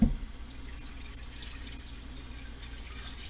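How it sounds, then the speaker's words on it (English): Tap water pours steadily into a pasta pot, a continuous close splashing rush with no talking. "So I'm going to get some water in the pasta water container."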